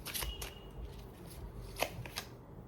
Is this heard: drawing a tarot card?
yes